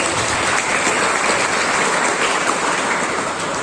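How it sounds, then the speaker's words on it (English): An audience at a mentoring session breaks into dense, steady clapping, loud and continuous for the whole stretch without a break. "Everybody clap for Kashyap"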